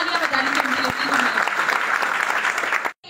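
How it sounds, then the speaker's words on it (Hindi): Audience clapping at a seminar hall event, a dense, steady burst of applause lasting about three seconds, loud and close, before cutting off abruptly. "एक बार तालियां बजा"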